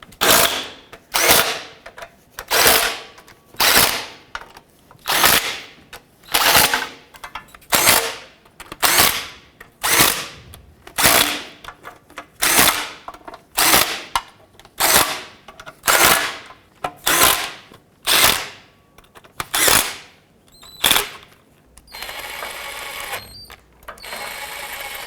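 Rapid bursts from a power ratchet or impact tool run down transmission oil pan bolts on a 2008-2010 Ford F-250, about twenty evenly spaced whirring zips, loud and close, with no talking.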